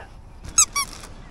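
Two quick squeaks from squeaky toys at a yard sale, short and close, sounding over quiet background.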